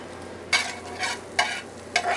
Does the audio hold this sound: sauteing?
yes